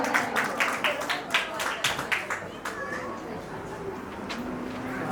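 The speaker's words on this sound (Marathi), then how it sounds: "जोरदार टाळी स्वागत करा." Clapping at a child's sixth birthday party, a burst of claps that fades over a few seconds, with voices and room chatter underneath.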